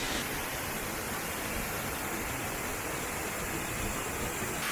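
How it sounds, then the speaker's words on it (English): Steady, dense rush of water at the top of a waterfall near Ella, Sri Lanka, heard up close as a continuous broadband roar with no breaks and no voices. "Standing on top of a waterfall near Ella"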